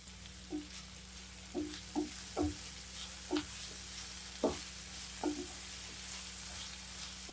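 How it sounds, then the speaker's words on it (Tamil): Onions sauté in a pan for an egg side dish, with a faint sizzle beneath a handful of distinct spatula scrapes and taps spaced about a second apart. "வெங்காயத்தை நல்லா வதக்கிக்கலாம்"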